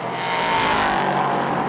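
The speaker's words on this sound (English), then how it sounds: "Jack Wolf over the line in the 30 CD Sport car" Race car passing during qualifying at the Monza circuit in 2019, a loud sustained engine roar that swells and holds close by, with no commentary over it.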